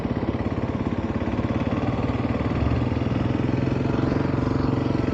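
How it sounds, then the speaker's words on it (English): A 300cc supermoto motorcycle engine idles steadily and loudly close by in the staging lanes of a drag raceway at an NHRA event, its fast even pulsing filling the whole stretch without talk. "so you guys can hear me over the motorcycle, because it gets a little noisy because it's a supermoto"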